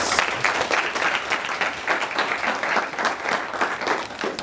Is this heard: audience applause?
yes